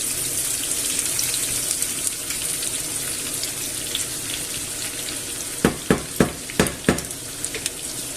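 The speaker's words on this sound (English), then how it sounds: "I'll add the pepper, onion and garlic, and brown that off" Pepper, onion and garlic sizzle steadily in hot olive oil, a dense hiss throughout, with several sharp stirring clacks of a utensil near the end.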